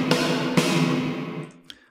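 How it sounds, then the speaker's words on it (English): MIDI drum track in Reaper drenched in heavy reverb: two loud hits about half a second apart, each trailing into a long washy tail that fades over roughly a second, then a faint final tap. "This is going to be way too much reverb."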